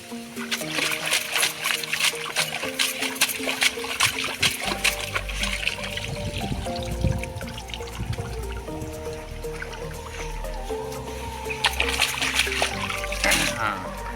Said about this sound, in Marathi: आता या ठिकाणी रोप धुवायला लावलेला आहे